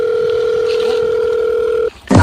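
A steady telephone dial tone hums loud and unbroken for about two seconds while a call is being placed, then cuts off abruptly into a brief burst of noise.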